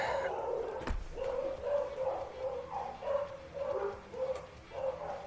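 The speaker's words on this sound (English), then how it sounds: "dogs are excited too" Excited dogs bark repeatedly indoors, with a run of moderately loud, evenly spaced barks and yips that are fairly close, while a sharp knock is heard near the start.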